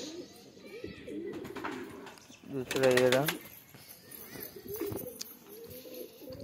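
Pigeons coo softly beneath steady speech, with a brief burst of wing flapping in the middle; one pigeon is recovering from paralysis.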